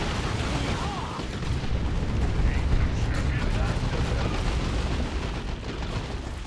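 High explosive shells bursting in the video game Dawn of War II, a dense, continuous barrage of loud booms and rumbling blasts that fills the whole stretch without a break.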